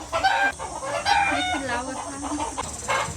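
Chickens cluck and call in short bursts close by, with a rooster-like crowing note mixed in and some faint voices underneath.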